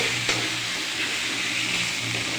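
Spiced food stirred in a frying pan gives a steady, close hiss of sizzling, with no voices.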